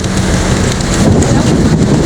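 Heavy rain roaring loudly with gusty wind noise, a dense continuous wash of sound close to the microphone.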